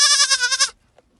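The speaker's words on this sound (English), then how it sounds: "Sheep." A sheep lets out a single short, wavering bleat close by, followed by near silence.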